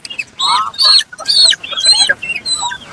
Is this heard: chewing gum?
no